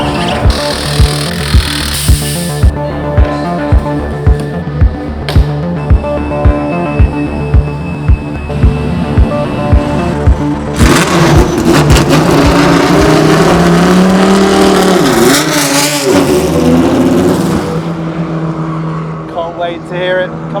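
A loud Judd 4-litre V10 engine in a Le Mans prototype race car revs hard in sharp repeated bursts, then screams up to a sustained high-pitched wail as it roars past close by.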